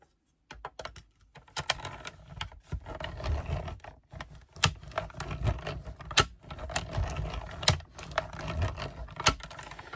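Paper cut for scrapbooking by being passed through a die-cutting machine, a run of close, irregular clicking and crunching rattles with short pauses, moderately loud throughout.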